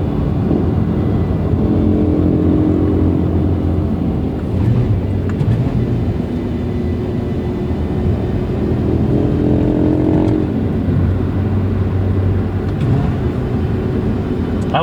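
A 2024 Lotus Emira First Edition with a 2.0 engine drives at low speed around town, its steady low engine drone and road rumble filling the cabin with some wind noise and no talk.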